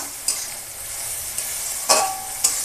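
Ground ginger, cumin, garlic and coriander paste with dried red chili frying in a pan for a chicken dish, a steady soft sizzle broken by a few sharp stirring scrapes, close and moderately quiet, with no voices.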